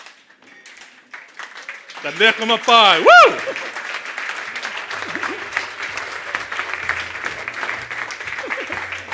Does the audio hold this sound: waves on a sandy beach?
no